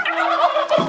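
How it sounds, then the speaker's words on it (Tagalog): Turkeys at a farmhouse give a brief, loud, close gobble, a quick warbling burst lasting under a second with no talk over it. "may pabo, daghan kaayo"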